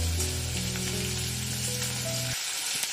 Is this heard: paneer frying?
yes